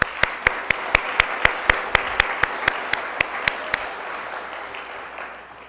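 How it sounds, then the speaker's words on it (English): A Sunday congregation at Althea Center applauds, with steady, evenly spaced claps standing out over a broad wash of crowd clapping that thins and fades after about four seconds. "So please give a round of applause to Daryl Johnson, Jason Hernandez, Candy Finch"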